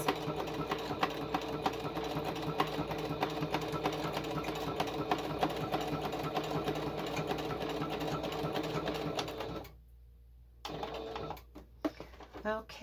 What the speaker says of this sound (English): And that's all the sewing I'm going to do on this.